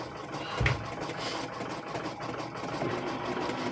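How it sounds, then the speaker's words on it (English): A sewing machine stitching a chicken quilt, a continuous fast close mechanical whir with a rapid even pulse and a brief knock near the start. "We're going to go sewing"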